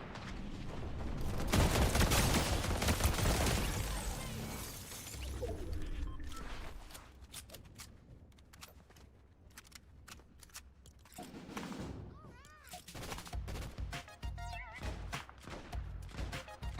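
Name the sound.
gunfire in the video game, Rebirth Island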